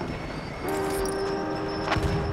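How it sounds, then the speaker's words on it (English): A train rolls past in the video game Battlefield 1 during a match, a steady heavy rumble with a sustained horn-like tone that rises and holds, and a sharp crack near the end. "That train doesn't kill me yet."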